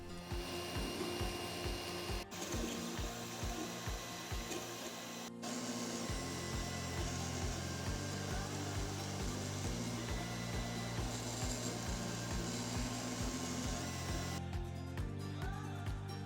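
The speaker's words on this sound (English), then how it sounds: "I used an Ender 3 Pro to print out all the sections of the TrailCam case." An Ender 3 Pro 3D printer printing case parts, its stepper motors whirring in steady shifting tonal patterns with a constant fan hiss underneath, close and continuous throughout.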